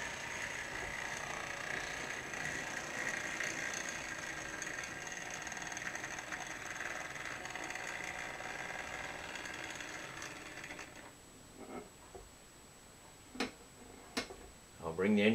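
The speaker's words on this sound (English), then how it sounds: "Another very nice running old Triang engine." An old Triang model steam locomotive runs along toy track with a steady, close mechanical ticking and clicking rattle that fades out near the end, leaving a few scattered handling knocks.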